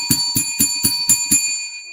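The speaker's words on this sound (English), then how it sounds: "Let's ring the bell for free Kyle Pitts." A small bell rings six times in quick, even succession during a livestream, each strike bright and ringing, close and loud. The tone fades out after the last hit, with no talking.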